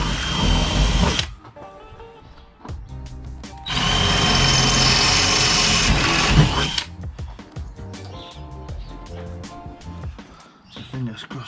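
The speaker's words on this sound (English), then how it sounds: "I think I actually need a bigger drill bit again. Yeah, so I'm gonna get a bigger drill bit." Power drill with a larger bit boring holes to mount a carbon fibre big wing spoiler, two loud sustained whirring bursts separated by pauses with clattering handling noises and occasional tool knocks.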